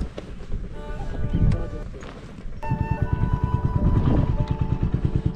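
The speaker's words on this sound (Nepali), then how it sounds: "बाइक पनि स्टार्ट हुन्छ कि हुँदैन।" A motorcycle engine turns over and catches outdoors at night in a hilly camping spot, then idles with a steady rumble close by.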